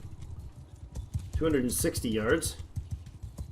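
Horse archers' mounts gallop in the medieval battle game Mount & Blade II: Bannerlord, a rapid, rhythmic patter of hooves running throughout, while someone speaks briefly over the middle.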